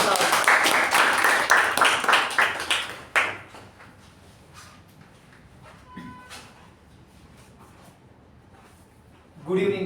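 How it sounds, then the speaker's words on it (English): Applause from an audience at a Toastmasters club meeting, loud dense clapping for about three seconds that quickly fades into quiet room noise with a few scattered sounds. "Please welcome him with a huge round of applause."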